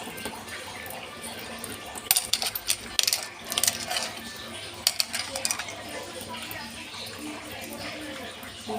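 Coins clink and jingle in bursts of metallic rattling, nearby, as they are handled and shuffled for cleaning, with a quiet voice now and then.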